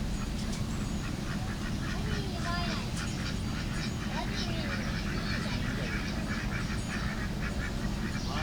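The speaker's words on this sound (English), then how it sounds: "Here come 2 more ducks swimming upstream." Ducks quacking on a canal, including a white drake, heard as faint scattered calls over a constant loud wash of flowing water or wind noise.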